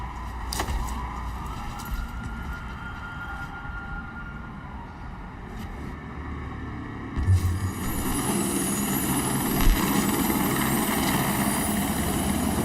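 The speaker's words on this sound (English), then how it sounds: "I do believe that is a helicopter" A helicopter in a Ubisoft video game trailer thrums steadily beneath a continuous wash of engine and rotor noise, swelling louder partway through with a sharp thump, no talking.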